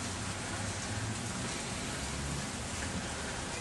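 Steady rain falls outdoors in warm weather, a dense continuous hiss of drops close by with no voices and no breaks.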